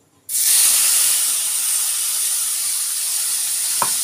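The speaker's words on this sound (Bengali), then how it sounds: "আমি এই তেলটার মধ্যে না এই মশলাটা দিয়ে দেবো, বাটা মশলাটা দিচ্ছি।" Ground spice paste drops into hot oil in a pan after fish have been fried, bursting into a sudden loud, steady sizzle and hiss that continues close up, with a faint tap near the end.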